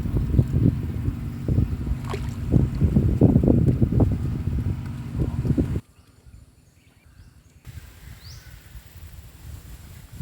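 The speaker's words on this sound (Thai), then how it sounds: "ลมพัด" Wind blowing during a boat ride on the Khek River in Thailand, a steady broadband rush of wind noise that drops abruptly to a quieter, calmer stretch partway through, with no talk.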